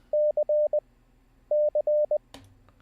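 Morse code letter C keyed as a clear sidetone beep, dah-dit-dah-dit, played twice in crisp rhythmic bursts, followed by a brief clunk.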